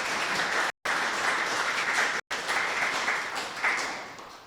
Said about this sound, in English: Let's have a round of applause for everybody in that contest